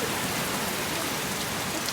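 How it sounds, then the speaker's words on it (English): Rain pours down in a steady, dense hiss of drops striking surfaces, loud and continuous throughout with no voices. "I'm just making this video on flipping rain."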